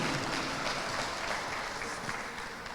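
A crowd at a political convention in Guadeloupe applauds, a continuous wash of clapping that fills the hall evenly from start to finish.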